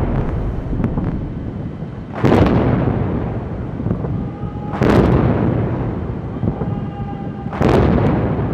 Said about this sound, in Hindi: the booming of the 21-gun salute.